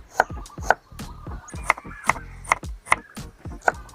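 Red shallots are sliced with a knife on a cutting board, nine or ten crisp, close chops landing in a fairly regular rhythm about half a second apart, with no talking.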